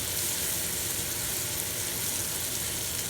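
Mushrooms fry in butter in a pan, a steady, dense sizzle that stays loud and close without a break, with no speech over it.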